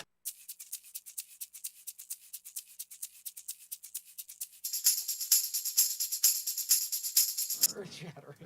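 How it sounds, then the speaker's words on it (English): A hand shaker plays a steady, fast, rhythmic pattern of crisp rattling strokes, quiet and close. It grows louder and denser halfway through, then stops, and a brief low sound follows. "I played a shaker."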